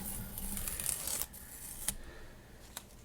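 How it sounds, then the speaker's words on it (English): Painter's tape being peeled off watercolor paper, a close, quiet series of papery ripping and rustling strips with a few sharp little tearing snaps, no talk. "now the fun part of peeling off the tape to see those nice crisp lines"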